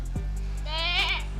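A raised goat bleats once, loud and close, a wavering harmonic cry held for about half a second over a steady low hum.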